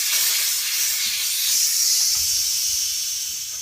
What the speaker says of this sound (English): you're gonna let the gas out of the reservoir